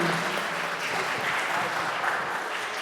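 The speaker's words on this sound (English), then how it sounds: "Round of applause, well done." A young audience gives a steady round of applause at a youth pitch event, with dense, even clapping that holds at a constant level throughout and no speech over it.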